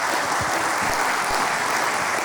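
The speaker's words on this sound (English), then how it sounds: "Let's give a round of applause to all of our panelists," A conference audience at Belmont Abbey College claps for the panelists, a dense and steady round of applause from start to finish with no talking.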